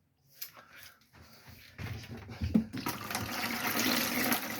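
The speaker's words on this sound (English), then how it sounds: "Vanity sink, all the taps working fine." The tap on the vanity sink of a 2014 Bailey Pursuit 550 caravan is turned on after a few clunks, and water runs steadily and fairly loudly into the basin.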